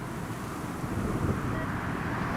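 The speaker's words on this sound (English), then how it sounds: "So, KLM clear for takeoff from Charlie West." A KLM airliner takes off at Newcastle Airport, its engine roar a steady, broad rumble held at constant loudness under wind noise, with no talk over it.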